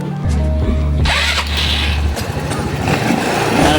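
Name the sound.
Motorstar Easy Ride 150 motorcycle engine starting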